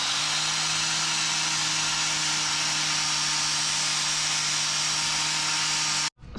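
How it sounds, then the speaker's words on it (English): Wire brush scrubbing rust from the bodywork of a Toyota MR2, a continuous close, loud abrasive buzz with a steady hum, unbroken until it stops abruptly near the end. "I'm just taking a wire brush to just get rid of all of the excess"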